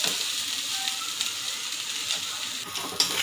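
A semolina mixture roasts in a pan for cutlets, making a soft, even sizzle with faint stirring scrapes and a small clatter near the end, close but fairly quiet.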